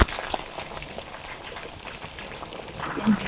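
Curry gravy for silver carp fish bubbles and simmers in a pot with a soft, continuous popping and gurgling, while a voice talks over it.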